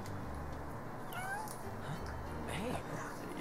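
A cat in the Final Fantasy XV video game meows twice, short rising cries a second apart, heard over a soft steady game ambience.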